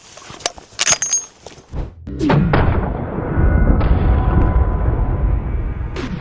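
A gunshot fired at a row of stacked frying pans outdoors: a few sharp clicks and handling sounds, then a loud crack and boom that rolls into a long, sustained rumbling echo.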